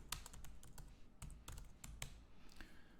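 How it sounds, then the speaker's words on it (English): Fingers type a terminal command on a computer keyboard, a quick run of crisp key clicks with brief pauses, close and fairly quiet, with no talking. "From this folder, I'm going to type .NET run."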